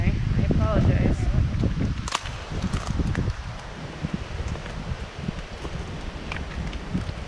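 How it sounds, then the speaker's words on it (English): Gusty wind rumbles and buffets the microphone outdoors on a wildlife area hike, with rustling and a person speaking over it at close range. "Oh, sorry it's windy."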